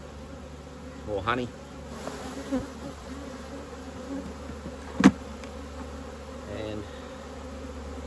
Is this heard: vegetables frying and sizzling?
no